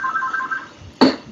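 Telephone ringing with a short electronic ringtone, a brief melodic warble that stops, followed by a sharp single knock or click, close and fairly loud in a quiet room.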